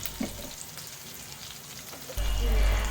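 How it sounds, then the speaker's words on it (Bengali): Chilli, coriander and cumin powder sizzle in hot oil for an egg korma, a steady crackling fry that swells louder near the end. "তারপরে মশলাটাকে ভালোভাবে আমি কিছুক্ষণ কষিয়ে নিব"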